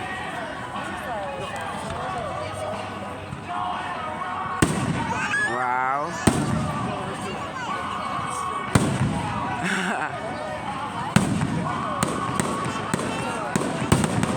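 Fireworks at a spectacular outdoor show explode as several sharp booms and crackles spread across the clip, with a whistling rocket rising midway and people talking and exclaiming nearby.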